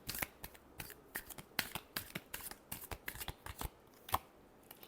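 Tarot cards are shuffled by hand at close range, a quiet, steady run of crisp flicking and slapping clicks.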